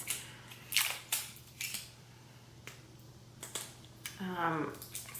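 Someone unwraps new makeup packaging, with scattered crisp crinkles and snaps of wrapping spaced out over several seconds and a rustling burst near the end, all up close and fairly quiet.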